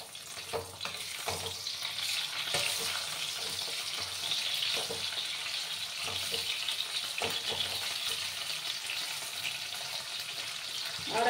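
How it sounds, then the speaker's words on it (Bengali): Rohu fish pieces frying in oil in a home kitchen, a soft steady sizzle with scattered clicks and scrapes of stirring, fairly quiet and continuous throughout. "আর এদিকে আমার মাছটা ভাজা হতে থাক।"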